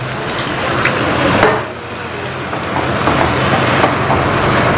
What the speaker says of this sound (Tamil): நல்லா வதங்கிறதுக்கு கொஞ்சோண்டு தண்ணி ஊற்றிக்கலாம்